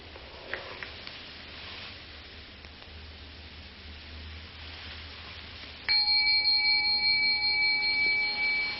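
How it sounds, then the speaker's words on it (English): A single bell struck after near silence, its clear ringing tone sustaining loudly and evenly for the last few seconds after a quiet, faintly hissing start. "the bell came out of nothing, floated off, and then stopped being a sonic echo"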